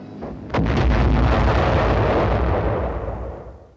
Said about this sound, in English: it automatically explodes a projectile just before it reaches the target